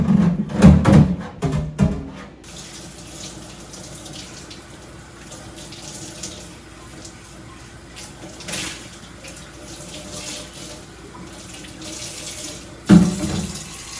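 A half-gallon Ball jar is washed under a running kitchen tap, with water splashing and clattering loudly for the first couple of seconds, then a quieter steady flow and a brief splash near the end.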